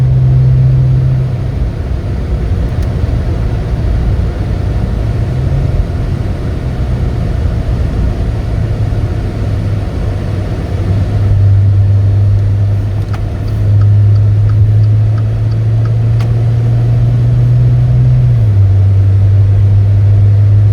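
A 2015 Maserati Ghibli S Q4 all-wheel-drive sedan with a 3.0-liter twin-turbo V6, cruising with a steady low engine hum and road rumble heard from inside the cabin, loud and smooth with slight pitch shifts.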